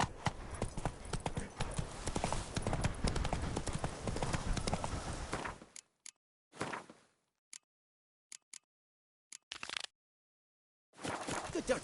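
Horse hooves clip-clopping at a quick galloping pace in The Witcher 3, a dense run of beats for about six seconds, then a few isolated knocks and short bursts separated by silence.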